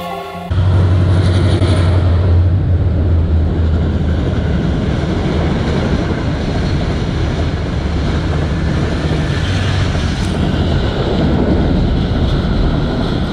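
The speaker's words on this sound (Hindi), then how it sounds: "ट्रेन आ रही है जी" A train approaching in Pakistan, a loud continuous rumble starting abruptly and holding steady, with a low drone in the first seconds and a broad roaring wash throughout, with no talk.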